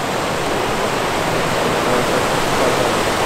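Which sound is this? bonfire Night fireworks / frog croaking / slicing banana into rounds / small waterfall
small waterfall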